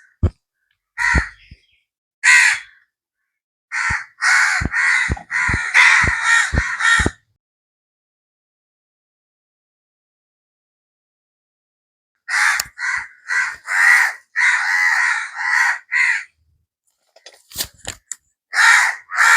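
Crows cawing loudly near the listener in quick runs of harsh calls, a busy burst at first, then a long pause before another flurry of caws and a few scattered ones at the end.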